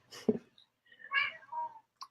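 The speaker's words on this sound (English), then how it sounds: "We've got a studio cat today. She's loud and proud." A cat meows several times in a quiet recording studio, with short, fairly faint calls separated by brief pauses.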